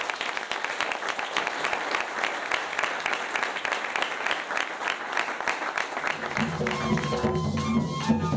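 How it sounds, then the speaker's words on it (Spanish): A crowd at a community gathering breaks into lively, continuous applause that stays loud throughout, with music swelling in underneath during the last couple of seconds. "El primer aplauso es para ustedes mismos."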